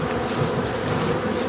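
Steady, dense buzzing of many honeybees at a hive entrance, with a wintering nuc colony on a double screen board, a continuous close drone with no talk.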